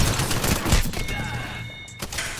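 Rapid video game gunfire, a dense burst of sharp shots up close in the opening moment, then quieter mechanical pings and a final shot.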